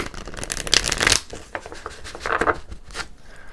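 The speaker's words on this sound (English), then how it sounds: "I'm going to do one more shuffle here before we go on." Tarot cards riffle and flutter in quick bursts, a dense shuffle at first and then lighter slaps and flicks, close and crisp with no speech.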